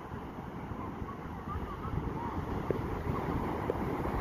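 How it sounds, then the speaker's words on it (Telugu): Wind buffets the microphone in soft cool gusts on a beach, with a low rumble of surf in the background. "ఇక్కడ చాలా చల్లగా గాలి వస్తుంది"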